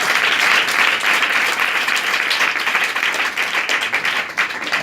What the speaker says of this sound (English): Let's clap hands for our brother Rance in the name of Jesus